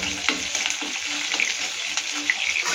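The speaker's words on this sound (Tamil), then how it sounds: "இப்போ கொஞ்சம் ஒரு 5-6 சின்ன வெங்காயம், ரெண்டு பல்லு பூண்டு நச்சது, ஒரு 4 கருவேப்பிலை," Small onions, crushed garlic and curry leaves sizzle and crackle in hot oil with dal in a pan, a continuous close frying hiss with light stirring taps.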